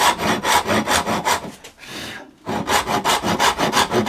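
A hand saw cuts wood in steady, rhythmic strokes, pausing briefly before resuming the back-and-forth rasping, close and loud.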